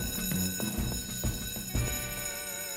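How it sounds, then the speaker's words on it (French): An alarm rings continuously and fairly quietly in a Fireman Sam cartoon, a steady electronic ringing tone that runs through the whole stretch with small bumps of other sound under it. "Pourquoi l'alarme sonne-t-elle toujours quand on est occupé à faire autre chose?"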